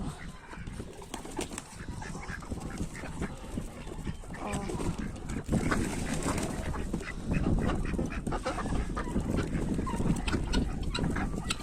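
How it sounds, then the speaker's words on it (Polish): A flock of ducks quacking continuously and busily up close, with scattered voices and shuffling mixed in throughout. "Kaczki na razie wychodzą."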